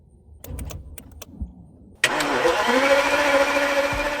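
A Bentley coupe with tampered electrical systems, its starter relay jumped, cranks and catches: faint ticks and clicks give way to a sudden loud, steady rush of engine sound that runs on to the end.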